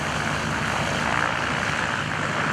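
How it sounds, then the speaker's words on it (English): A propeller aerobatic airplane rolls inverted at the 2011 Greenwood Lake Airshow, its engine droning loud and steady throughout with no pauses. "rolls the airplane to inverted"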